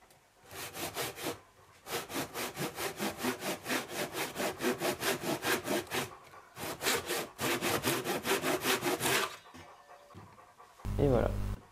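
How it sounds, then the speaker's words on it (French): A Japanese hand saw cuts through wood for a guitar body in quick, steady back-and-forth strokes, close and loud, with a brief pause midway and a short voice at the end. "Je finis à la scie japonaise."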